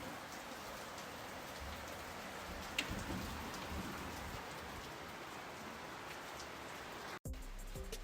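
Steady rain hisses on surfaces nearby, even and unbroken, with one faint tick partway through and a brief dropout near the end.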